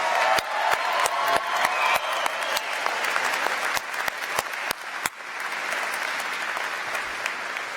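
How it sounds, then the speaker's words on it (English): A commencement audience of graduating health sciences students and guests breaks into a sustained round of applause, dense crowd clapping with a few sharp, close individual claps standing out, steady throughout and not spoken over. "Please join me in a round of applause."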